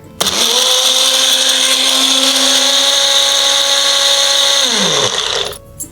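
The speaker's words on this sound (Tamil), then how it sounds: "இதோட பால் விட்டு அரைக்கிறோம்." Kitchen mixer grinder runs at a steady high whine while grinding soaked cashews, almonds, poppy seeds and cardamom with milk, loud and close, starting abruptly, holding for about five seconds, then winding down as it is switched off.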